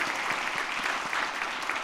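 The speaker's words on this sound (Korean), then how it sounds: "그 자리에 다 일어나시고 박수로 격려하겠습니다" A church congregation applauding during a Sunday afternoon service, steady dense clapping from many hands filling the room without a break.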